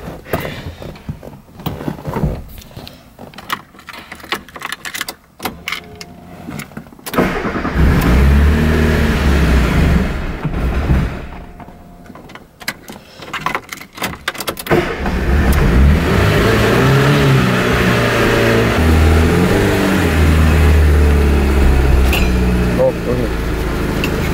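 Fiat Panda car engine starting and revving, opening with short cranking bursts, then catching and settling into a loud sustained roar with repeated rises in pitch and a second run of revving later on.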